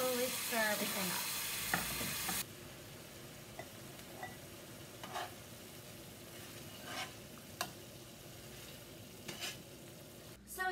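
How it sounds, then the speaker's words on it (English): Zucchini noodles stirred with sauce in a sauté pan. A loud sizzle opens the clip, then low steady frying continues under soft, scattered scrapes and clinks of a utensil against the pan. "And then I'm going to slowly stir everything up."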